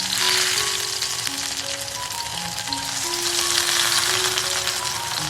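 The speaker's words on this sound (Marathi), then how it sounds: "स्लो गॅसवरती ह्या चकट्या मस्त भाजून घ्यायच्या आहेत" Marinated eggplant slices fry in oil over a low gas flame for a crispy Maharashtrian vangi dish, giving a steady, close sizzle that holds at the same loudness throughout, with faint tonal hums underneath.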